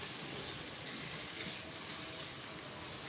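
Garlic and ginger fry in a pan for beef nihari, giving a steady, even sizzle that holds at a low level from start to finish with no one speaking.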